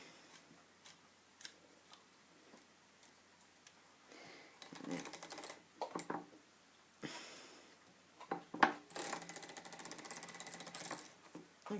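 A hand-cranked sock knitting machine clicks and rattles as it knits around a toe-up sock with a rolled hem, with sparse ticks early and then denser mechanical clattering bursts close by.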